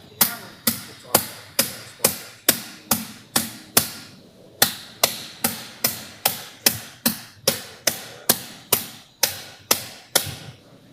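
Surgical mallet striking an instrument during lateral interbody spinal fusion surgery, about two dozen sharp, close metallic taps in a steady rhythm with one brief pause, no talking.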